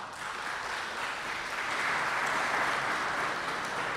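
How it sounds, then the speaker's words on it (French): Sustained applause from an audience after a lecture, dense and even clapping that holds steady and swells slightly midway, filling the room without any voices on top. "je vous demande d'applaudir à nouveau"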